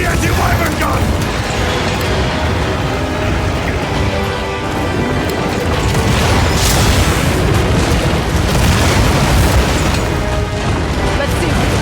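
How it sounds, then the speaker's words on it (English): Deep booms and bursting blasts come from the anti-wyvern gun firing and exploding in Monster Hunter Wilds, loud and dense throughout with rumbling layered effects and game voices speaking over them. "Using the anti-wyvern gun!"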